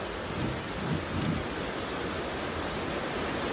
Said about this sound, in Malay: Alamak, hujan makin lebat.